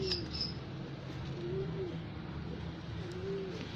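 Pigeons of the Halaku breed coo in a few soft, repeated calls over a low background hum, fairly close and otherwise quiet.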